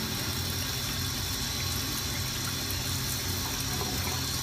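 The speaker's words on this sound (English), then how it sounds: "but put cold water on top." Cold water pouring steadily onto a pressure cooker lid after the flame is off, a continuous loud splashing gush like a running tap, with no break throughout.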